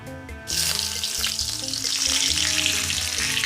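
Curry leaves dropped into hot oil with mustard seeds and urad dal, bursting into a loud, close, continuous sizzle and crackle that holds steady to the end.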